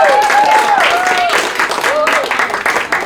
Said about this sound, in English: Big round of applause for Georgia.